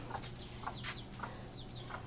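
Soft, repeated clucks from a black bantam chicken come at a steady pace over a constant low background hum.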